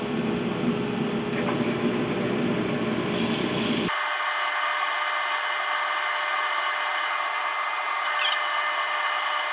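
Sandpaper rubbing a small wooden banana bowl spinning on a lathe, a continuous close rasping hiss that drops to a lighter, thinner whir partway through as the lathe slows.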